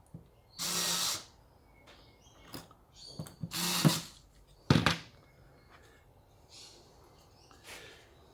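A power drill makes screw holes in a construction project, with two short whirring bursts and several quick trigger pulses mixed with thunks and handling knocks in a quiet room.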